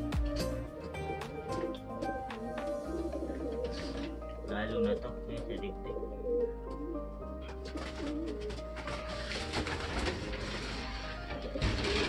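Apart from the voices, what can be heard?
racing pigeons cooing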